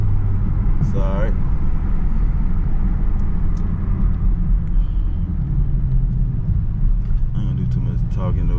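A Chevrolet Camaro SS driven through city streets, its engine a steady low rumbling drone heard from inside the car, with brief talking over it.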